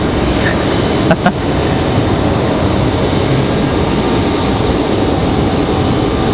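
A Boeing 787 jet at Raleigh-Durham International Airport roars close by as a steady, loud broadband rumble that stays nearly constant throughout, with a couple of brief clicks near the start and no talking.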